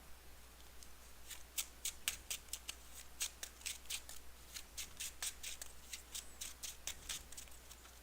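Arkham Horror LCG playing cards being shuffled, a run of quick crisp riffling bursts in an uneven rhythm, close and fairly quiet over a low steady hum, with no talking.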